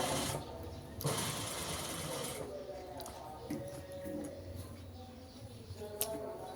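Sewing machine stitching a T-shirt hem, a faint whirring run with soft ticking clicks, quiet and intermittent across the span.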